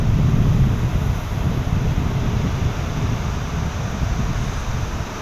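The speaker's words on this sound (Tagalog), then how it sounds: "namumuti yung alon sa tabi" Surf breaking along a beach shore in stormy weather, a steady close roar of churning waves mixed with heavy wind buffeting the microphone, continuous throughout with no speech.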